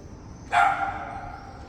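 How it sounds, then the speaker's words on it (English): Single dog bark in Barcelona, Spain, one clear, fairly close yelp that trails off into quiet background hum. "I hear a dog."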